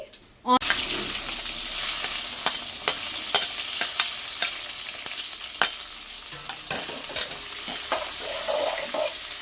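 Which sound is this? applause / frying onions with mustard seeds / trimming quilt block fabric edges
frying onions with mustard seeds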